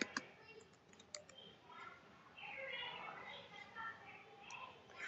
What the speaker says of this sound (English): start typing in the name of your contact group